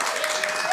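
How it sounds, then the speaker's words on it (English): A studio crowd applauds in a dense, steady wash of clapping that fills the whole moment, loud and close, with a voice faintly present underneath. "best crowd in the house that I've seen all year. They're very loud."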